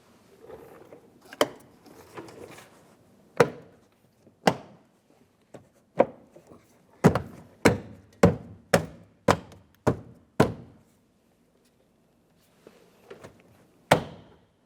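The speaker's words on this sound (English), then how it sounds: "I'm going to pay attention along the sides for those holes and corresponding push pins and press them in." Door panel push pins on a 2004-2015 Nissan Titan being pressed into their holes, a series of sharp, close plastic thunks and snaps spaced unevenly, with a quick run of about eight in a row midway and one last pop near the end.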